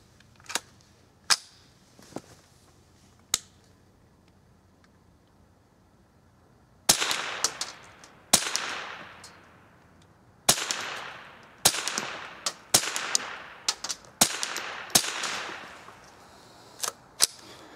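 A vintage .22 Glenfield rifle, freshly restored, fires a string of sharp, close cracks, a few spaced shots at first, then a quicker run of reports with brief ringing decay between them.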